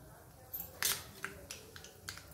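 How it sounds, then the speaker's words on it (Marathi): Mustard seeds are crackling in hot oil for a pea and potato dish. Sharp, scattered pops and snaps come at irregular intervals, close but fairly quiet, with one louder crack early on. "मोहरी छान तडतडली ना तर मग जिरं टाकायचं आहे आपल्याला"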